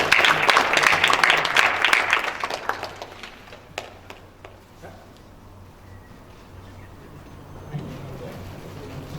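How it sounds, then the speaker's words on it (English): A short burst of applause from a crowd, loudest at first, then thinning into a few scattered claps as the room quiets. "So let's give a big round of applause to Kasumita."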